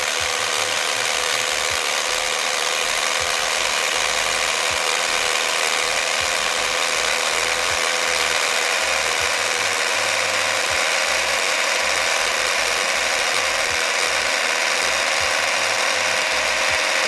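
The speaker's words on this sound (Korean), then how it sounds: "클러치 슬립이 작동된 거라고" A Fischer C1600N dry core drill slips its safety clutch while boring, giving a loud, continuous rapid ratcheting clatter over the motor's whine, close and sustained without any talk.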